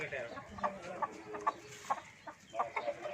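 Hens on an aseel chicken farm, a series of short, irregular clucks close by with quiet surroundings.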